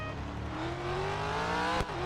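A race car engine roars at Indianapolis Motor Speedway in Real Racing 3, rising in pitch as it accelerates, steady and loud throughout, with a brief sharp thump near the end.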